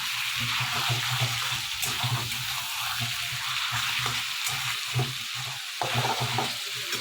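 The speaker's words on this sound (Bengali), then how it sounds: "এবার আমি এই আদা রসুন যে বেটে রেখেছিলাম আগে থেকে সেইটাও দিয়ে দিচ্ছি এর মধ্যে নাড়াচাড়া করে নিই" Ginger-garlic paste sizzles and fries in a pan for chicken curry while it is stirred, giving a steady close crackle with repeated scraping strokes throughout.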